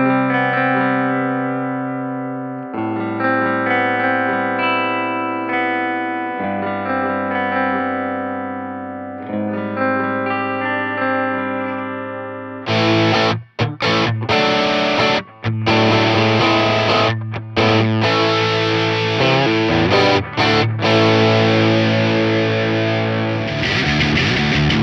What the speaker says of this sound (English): This is Ample, an amp and cab simulator with a difference.